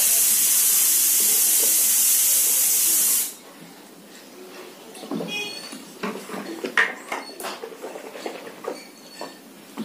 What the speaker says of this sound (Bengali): আমি খাইতে বলবো তারা প্রেশারে সিটি পড়ে